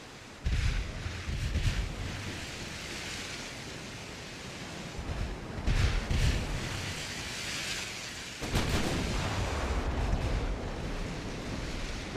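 Artillery fires in a war strategy video game: a few heavy booms land several seconds apart, each swelling into a broad rumbling roar that hangs in a constant noisy wash.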